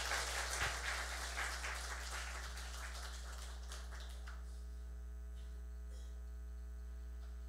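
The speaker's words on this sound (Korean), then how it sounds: "격려의 박수 해주세요." A church congregation at a Sunday morning service gives a short round of encouraging applause, dense clapping that thins and fades after about four seconds, leaving a steady low electrical hum in the room.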